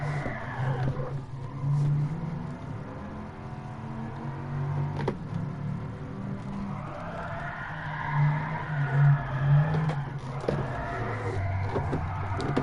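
A race car in Gran Turismo Sport revs and its tyres squeal and scrub as the wheels spin, the engine note rising and falling in waves with a harsh skidding hiss over several seconds.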